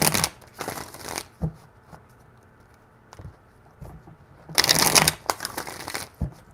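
Close, crisp shuffling of a tarot deck, two loud bursts of riffling cards separated by quieter handling and soft taps, with no voices.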